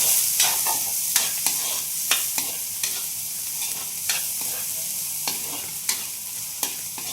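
Chorizo frying in a pan for fried rice with garlic and onion, a steady bright sizzle punctuated by about a dozen sharp scraping stirs of a utensil, close and loud.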